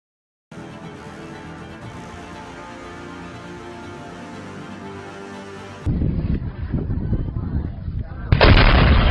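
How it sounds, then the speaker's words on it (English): A tall building is demolished with controlled explosions: a long rumbling roar gives way to heavy crashing booms and debris noise, loud and near, ending in a final powerful blast. "Tall building is brought down with precise explosions"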